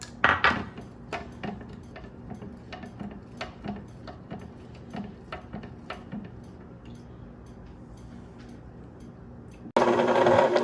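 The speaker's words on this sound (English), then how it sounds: "And I'm gonna stir it up really good" A spoon clinks and taps against a bowl while lemon juice, simple syrup and lemon zest are stirred for sorbet. The irregular, fairly quiet ticks and knocks fade out before a sudden loud burst of noise at the end.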